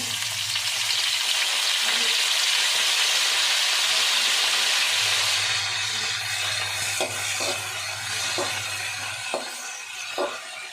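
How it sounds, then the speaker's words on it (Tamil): Gongura (sorrel) leaves sautéing with green chillies in a pan, a steady loud sizzle and hiss of frying throughout with occasional soft stirring knocks and no talk. "கீரையை நல்லா வதக்கியாச்சுங்க"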